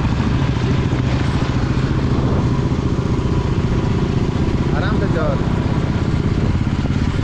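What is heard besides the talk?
motorcycle engine running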